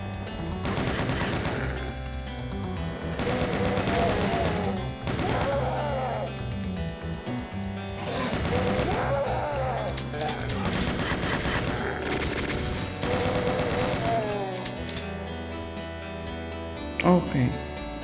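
A chain gun in the video game Doom II fires in long rapid bursts over loud, droning game music, with brief pauses between volleys.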